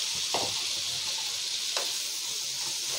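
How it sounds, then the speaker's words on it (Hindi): Fried taro root (arbi) sizzles steadily in spiced oil in a pan, a constant close hiss broken by two brief stirring scrapes, with no voices over it. "अच्छा थोड़ा देर इसको 2 मिनट फ्राई करूँगी"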